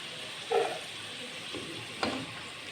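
Carrots lightly frying in oil in a pan for aloo matar pulao, giving a quiet steady sizzle with a couple of brief louder stirring or clattering bursts.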